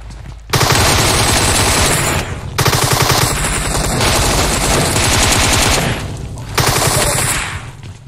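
Sustained automatic gunfire in the mobile battle royale game PUBG Mobile, loud rapid bursts lasting several seconds each with brief pauses between them.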